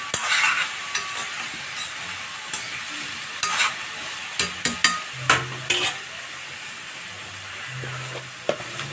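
Vegetables fry with a steady sizzle in a pan while a utensil stirs and scrapes against the metal in scattered sharp clicks, loud and close, with no talking.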